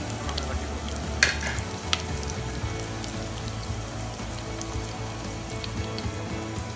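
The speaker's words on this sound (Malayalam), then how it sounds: "മീൻ കറി ആവുമ്പോൾ സവാള, മുളകും, വെളുത്തുള്ളി ഇതെല്ലാം ഒന്ന് വഴറ്റ് വരാൻ വേണ്ടിയിട്ട് കുറച്ചൊന്ന് വെയിറ്റ് ചെയ്യാം." Onion, chilli and garlic sauté in hot oil for a Nagore-style fish curry, a steady, close sizzle and crackle with occasional louder pops and no voices.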